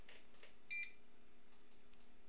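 A GE Concord 4 security alarm system arming in away mode sounds a single short, faint electronic beep in an otherwise quiet room, with soft background hum and no speech.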